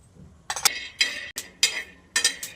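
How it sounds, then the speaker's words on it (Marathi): Peanuts being dry-roasted in a pan, heard as bursts of bright metallic clinks and scraping as a utensil stirs them, coming in several short clusters close by with quiet gaps between. "आता मस्त भाजून घेणार आहे शेंगदाणे"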